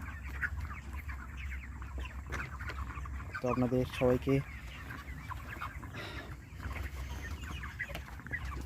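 Broiler chickens, 39 days old and about 2.5 to 2.7 kg, cluck at a poultry farm set in open village ground. A steady flock murmur carries a brief burst of louder clucks midway, while someone talks briefly.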